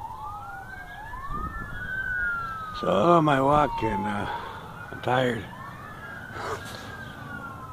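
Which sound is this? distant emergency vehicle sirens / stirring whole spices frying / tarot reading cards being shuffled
distant emergency vehicle sirens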